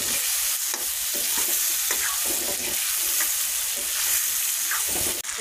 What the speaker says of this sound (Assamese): আলুখিনি এতিয়া আমি ভালদৰে ইয়াতে ভাজি ল'ম